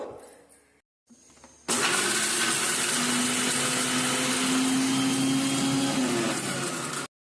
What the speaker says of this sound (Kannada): ನೆನೆಸಿದ ಅಕ್ಕಿ, ಪೆಪ್ಪರ್, ಹಳದಿ ತುಂಡು, ಹಿಂಗು ಹಾಕಿ ಚೆನ್ನಾಗಿ ರುಬ್ಕೋಬೇಕು.